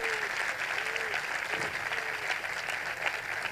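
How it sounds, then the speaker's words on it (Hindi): Loud applause from a church congregation during a Hindi-Urdu Christian New Year sermon, a steady dense clapping wash throughout, with faint voices underneath. "यस, जोरदार तालियां।"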